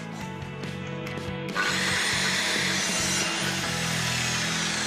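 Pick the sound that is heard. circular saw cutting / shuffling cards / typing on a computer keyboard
circular saw cutting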